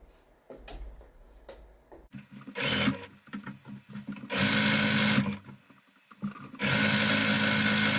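A sewing machine stitches a pillow for a home decor couch makeover, running in two long loud sustained bursts after a few short starts and ticks, with quieter gaps between.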